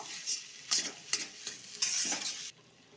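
Mashed boiled potatoes are stirred and pressed in a pan for aloo patties, with soft irregular scraping strokes over a light sizzle, ending in near quiet.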